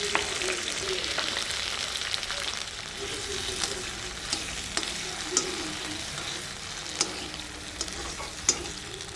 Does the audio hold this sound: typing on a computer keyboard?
no